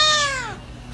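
A cat lets out one loud, close meow that slides downward in pitch and fades out within about half a second, followed by quiet.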